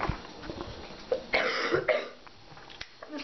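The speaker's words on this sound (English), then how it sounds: "Just like coughed." A single cough, close and moderately loud, with a short throaty burst and a second smaller one following, amid quiet indoor background during breakfast.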